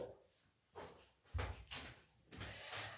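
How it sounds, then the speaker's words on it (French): A door is pushed shut indoors, giving a few soft knocks and a latch click close to the microphone, with no other sounds around it. "je vais fermer la porte"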